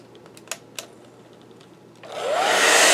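Faint tapping and clicks give way to a hair dryer switching on, its steady loud whoosh blowing over freshly applied embossing powder on a craft project and rising to full strength.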